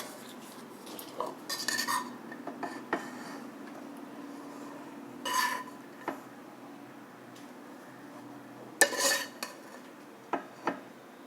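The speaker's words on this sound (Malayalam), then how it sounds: "ഇനി ചോറ് മുകളിൽ വീണ്ടും ഇട്ട് കൊടുക്കാം." Cooked rice is spooned in a layer over chicken biryani in a large pot, with intermittent metallic scrapes and clinks of a ladle against the vessel between quiet pauses, no voices.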